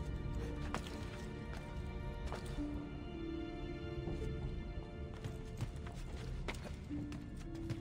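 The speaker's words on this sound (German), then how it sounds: "Das ist auch ein Pferd" A horse in the Assassin's Creed game shuffles with soft hoof clops and faint snorts, low-level and steady against the surrounding game ambience.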